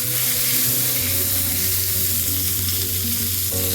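Mustard seeds, chillies and curry leaves frying in hot oil for a brinjal rice tempering, a dense continuous sizzle and crackle, close and fairly loud, with a low steady hum beneath.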